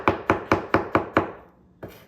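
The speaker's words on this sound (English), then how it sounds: "This is how you chop this for this particular dish." A knife chops vegetables on a cutting board for a steak and veggie chow mein stir-fry, six quick evenly spaced close chops followed by a short pause and one final lighter chop, with no talking.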